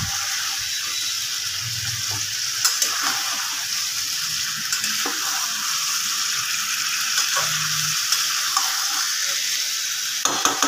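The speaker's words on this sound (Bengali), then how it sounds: "এখন আমি মাংসটাকে শুধু কষাবো" Chicken sautéing in a pan gives a steady, close sizzle throughout, broken by occasional soft scrapes and clinks as the meat is stirred.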